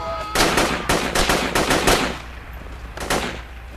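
Automatic rifle fire in the video game Project Reality v0.95, during a Russian airmobile infantry battle: several loud, rapid bursts close together, a short pause, then one more burst.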